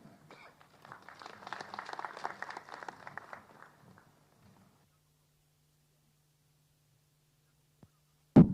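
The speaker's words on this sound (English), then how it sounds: "Let's give the chairman a better clap." Meeting attendees at an election commission's results transmission system test clap for the chairman, a modest burst of applause that swells and then dies away within a few seconds, leaving near silence broken by a single click and a sharp thump.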